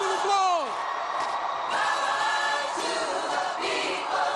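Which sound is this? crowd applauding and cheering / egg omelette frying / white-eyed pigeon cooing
crowd applauding and cheering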